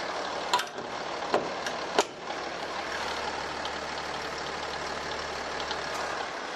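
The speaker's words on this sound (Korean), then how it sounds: "이 정도의 엔진 소음 만나보실 수가 있는 차량입니다." Diesel engine of a Kia Mohave flagship four-wheel-drive SUV idling with the hood shut, a quiet steady low hum throughout with a few brief clicks early on.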